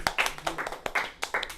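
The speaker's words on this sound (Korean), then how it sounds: "정답! 박수!" A brief burst of clapping from students in a classroom, several quick uneven claps close by, with a voice briefly audible among them.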